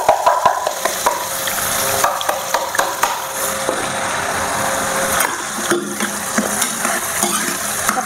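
A vegetable tadka with bay leaves fries in a pan in a home kitchen, a close, steady sizzle broken by repeated stirring scrapes and knocks of the spoon against the metal.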